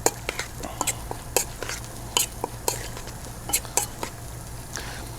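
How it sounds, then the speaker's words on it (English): Stirring a marinade of capers and aged balsamic vinegar, with repeated wet scraping and clinking strokes against the bowl at an uneven rhythm over a low steady hum. "Let's go ahead and give this a good stir."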